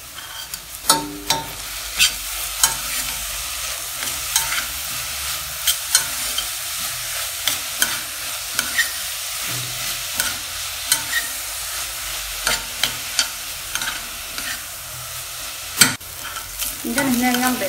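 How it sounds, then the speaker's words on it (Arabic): Peppers and carrots fry in a pot with a steady sizzle, broken by repeated clinks and scrapes of stirring at a roughly regular pace. "غادي نزيد لها الفلفله وغادي نزيد لها الجزر وغادي نخليو هاد الخضر غادي تتهبط شويه"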